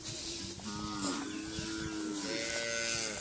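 Several cattle low in drawn-out, overlapping moos against a busy outdoor background, the calls rising and falling one after another.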